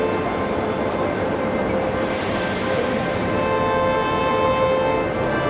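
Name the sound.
train ride from Lisbon to Queluz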